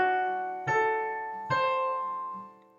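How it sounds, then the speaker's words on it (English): A dominant seventh chord, a major triad topped with a minor seventh, rings out as sustained tones, struck twice and left to decay, with a faint third attack near the end. "That's how we create a dominant seventh chord."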